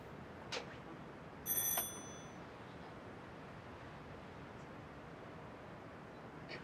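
A doorbell at the door of apartment number 7 gives one short, bright electronic ring. It stands out clearly over a quiet hallway hush, with a faint click just before it.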